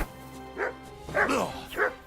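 Dog in the video game Kingdom Come: Deliverance II barks three times in quick succession, close and clear, with a rough snarling middle bark over a faint steady hum.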